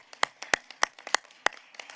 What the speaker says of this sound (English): So can I have a round of applause for all of our here speakers?